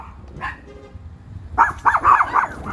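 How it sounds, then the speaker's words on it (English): Several small Chihuahuas indoors let out a quick burst of high, sharp yapping barks, close by, after a brief quiet moment with a faint yip. "They find things to bark at."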